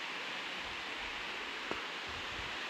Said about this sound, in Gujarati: ખોડિયારમાંના ડેમનું પાણી